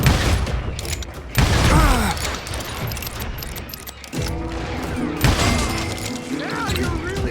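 Gunfire in the Western shooter game Call of Juarez Gunslinger, a loud burst of shots with crashing impacts and booms, then a steadier rattling stretch of battle noise.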